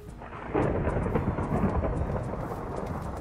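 A loud, low boom from an explosion in Minecraft erupts and spreads into a sustained rumbling roar, dense and close, with no voices.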